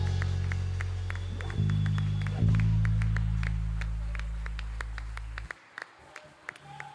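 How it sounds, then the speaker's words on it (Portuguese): A church congregation claps in a steady, even rhythm during a healing and deliverance service, sharp hand claps repeating over sustained low organ or keyboard tones that cut out near the end. "Aplauda Ele, em nome de Jesus."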